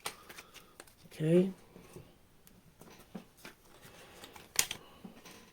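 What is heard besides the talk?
shuffling tarot cards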